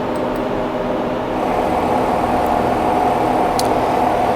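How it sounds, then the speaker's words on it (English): A Magtrol test motor running under PID torque control gives off a steady broadband mechanical whir that stays at an even level throughout, with a faint high tick now and then. Nobody speaks. "So let's start running our motor at this time."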